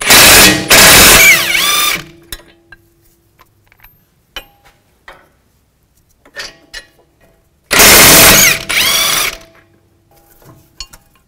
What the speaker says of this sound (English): use a 22 millimeter socket and a 22 millimeter wrench and take these bolts out